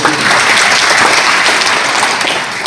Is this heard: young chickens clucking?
no